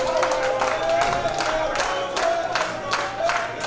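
A wrestling crowd at a Pro Wrestling World Cup Canada qualifier cheers the challenger during a submission hold, with loud, continuous cheering, rhythmic clapping bursts and whoops throughout.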